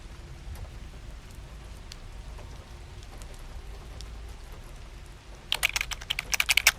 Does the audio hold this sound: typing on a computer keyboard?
yes